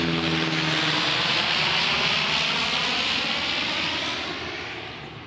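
An airplane flies low overhead near a city airport, a loud, close engine roar that fills the scene and then gradually fades away toward the end, with no talking.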